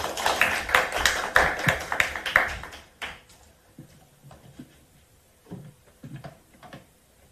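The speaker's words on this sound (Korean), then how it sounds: "박수로 모시겠습니다." An audience at a National Assembly roundtable meeting claps in a burst of applause that lasts about three seconds, then gives way to scattered taps and shuffling in a quiet room.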